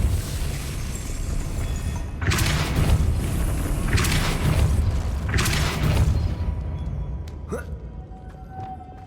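Casting the Depulso force spell in the video game Hogwarts Legacy brings a series of loud, booming magical blasts over a low rumbling background, three heavy bursts followed by a sharper crack near the end.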